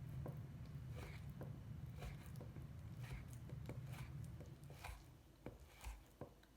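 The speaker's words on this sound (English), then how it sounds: "I'm going to cut it into thin slices like this, lengthwise, and then I'm gonna cut it across" A knife slices through raw beef shoulder on a cutting board, giving a steady series of soft, close thuds and scraping cuts, lengthwise then across, over a low background hum, with no talking.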